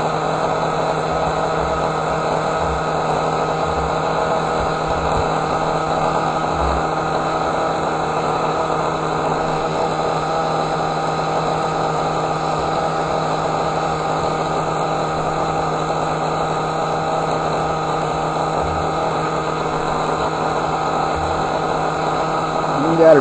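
A steady engine idles after a small low-speed idle adjustment, holding a loud, even drone with an unchanging hum throughout and no clear breaks.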